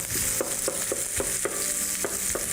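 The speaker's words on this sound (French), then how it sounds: "Puis juste les oignons qui sont en train de cuire, hein?" Onions frying in oil or butter for homemade burgers, a bright, steady sizzle with a spatula tapping and scraping at the pan in a loose, repeating rhythm.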